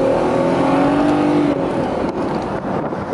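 Mercedes-Benz SL500 R129 roadster engine accelerating on a test drive, heard from inside the car as a rising rev followed by a shift and continued loud engine noise.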